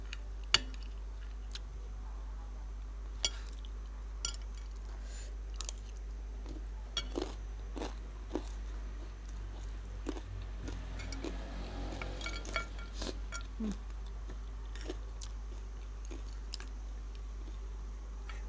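Close, crunchy chewing of crispy pork rind eaten with curry, made up of irregular crisp bites and crackles over a low steady hum, with no talking.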